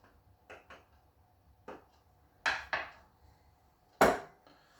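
Lid of a home espresso coffee maker being set back in place after the filter is filled with ground coffee, giving a few sharp metallic clicks and taps, close and fairly loud, spaced unevenly with quiet gaps between.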